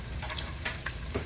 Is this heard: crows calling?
no